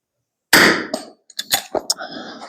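A single sharp .22 rifle shot fires as the last round of an NRL22 course of fire, followed by quieter clanks and handling noises close by.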